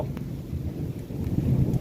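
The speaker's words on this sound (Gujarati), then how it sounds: "વરસાદ જેવો માહોલ છે કંઈક, અને વીજળીના કડાકા સાથે વરસાદ આવે" Thunder rolls low and heavy during a rainstorm with wind, a brief, fairly faint rumble with a rainy wash and gusty noise over it.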